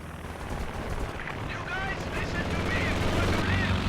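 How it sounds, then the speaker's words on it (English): Anti-infantry strafing run in a strategy video game, with a steady roar of rapid gunfire and an aircraft drone building slightly louder over a few seconds, muddied by a dense low rumble and faint whistling tones. "Anti-infantry strafe coming down."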